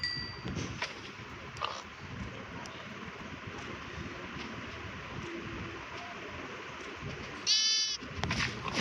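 Young goat kids bleat in short, high, quavering cries over a constant noisy outdoor background, one sharp nearby call standing out near the end.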